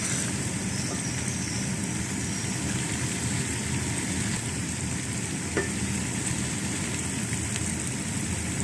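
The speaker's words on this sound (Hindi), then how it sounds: "लहसुन अदरक का पेस्ट और एक बड़े साइज का टमाटर डाल, और अब हम इसे अच्छी तरह भूनेंगे" Continuous sizzling of garlic ginger paste and tomato frying in a pan, a steady crackling hiss with occasional faint clinks, no voices.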